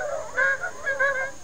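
Several voices together mimic a bicycle horn, giving repeated nasal honks that sound like a flock of geese. The squawks overlap in a loose rhythm against a steady background hiss, close by and with no speech.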